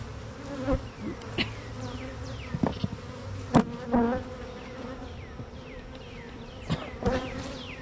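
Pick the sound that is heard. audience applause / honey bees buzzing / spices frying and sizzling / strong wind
honey bees buzzing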